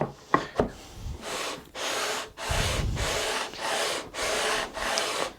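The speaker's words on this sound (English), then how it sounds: "it also gives you a quicker and better result on your fretboard." Sandpaper in a jig rubbing back and forth over a guitar fretboard during finishing, heard as about seven even, close, loud abrasive strokes separated by brief pauses, with no voices.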